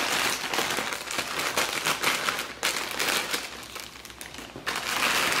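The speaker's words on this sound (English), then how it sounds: "What I will do, I'll cut them open." Plastic bags of frozen cauliflower crinkle and crackle loudly as they are cut open, a close, continuous rustling with a brief pause midway.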